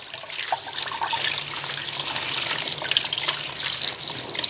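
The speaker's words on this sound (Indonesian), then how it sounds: "Cuci di air mengalir." Tap water runs steadily into a kitchen sink as food is rinsed under it, a continuous close splashing hiss with small irregular spatters and no talking.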